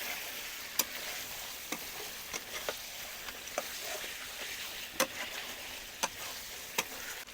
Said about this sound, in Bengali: আদা কুচি দিয়ে দিচ্ছি আদা কুচি দিয়ে ভালো করে আরেকটু কষাবো